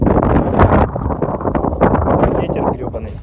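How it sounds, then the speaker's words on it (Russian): Heavy gusts of outdoor wind buffet the microphone beside a BMW car, a loud rumbling roar that surges and dips in uneven bursts throughout. "Ветер гребаный."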